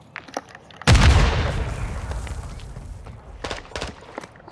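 A single loud grenade blast bursts suddenly in a video game, its deep boom decaying over a couple of seconds, followed by scattered sharp cracks of gunfire in the distance.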